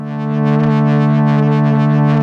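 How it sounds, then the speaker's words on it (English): A sustained synth pad on a Digitone 2 holds a steady chord, its tone gently shimmering and widening as a chorus effect thickens the sound; no voices. "You can add some chorus."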